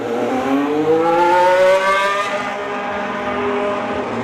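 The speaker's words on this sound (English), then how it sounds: "the cars are now going out and the drivers are" Formula 1 cars roll out onto the circuit for sighting laps at the Belgian Grand Prix, engines revving with rising pitch as they pass steadily and fairly close, then fading into a sustained engine drone.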